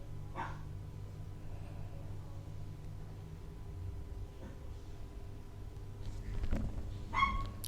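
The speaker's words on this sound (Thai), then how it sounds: "ผมหนีมันมา มันก็เห่าเรียกอยู่เนี่ยครับ" A dog barks a few times, once near the start and again in a short burst near the end. The barks sound fairly distant and sit over a steady low hum.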